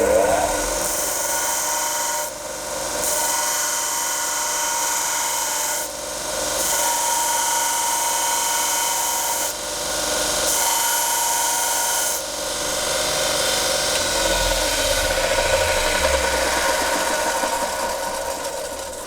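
The tip of a woodcarver's punch is held against a running sanding belt and rotated to grind a taper, producing a loud, continuous rasping grind that dips briefly several times as the steel is lifted and repositioned.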